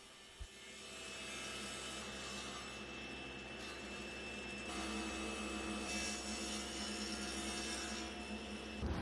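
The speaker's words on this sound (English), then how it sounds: "I get out my Harvey compass miter gauge, and I make another cross cut to put another inlay of white oak in between" Steady whirring of a power saw making a cross cut in white oak guided by a Harvey compass miter gauge, a continuous even drone that swells slightly partway through, with no talking.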